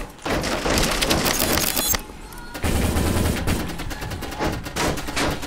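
Rapid bursts of laser gun fire in the video game G-String, loud and dense with sharp repeated shots, a brief pause near the middle, then another sustained volley.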